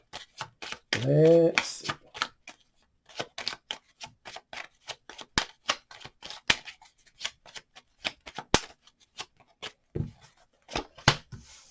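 Tarot cards are shuffled and handled in a string of crisp riffles and sharp flicks, one longer fluttering shuffle early on, close and clear, with a brief spoken remark.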